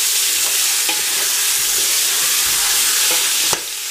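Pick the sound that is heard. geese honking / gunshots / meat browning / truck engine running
meat browning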